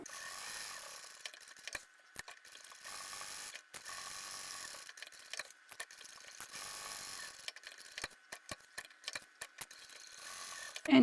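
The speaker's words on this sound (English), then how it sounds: "When I get to corners, I like to backstitch and then go back to the corner and then turn and go forward a couple and back a couple." A sewing machine backstitches the corners of a tote bag pocket, with rapid mechanical ticking and clatter in short bursts, stopping and starting as the stitching reverses and moves forward, close and with no one speaking.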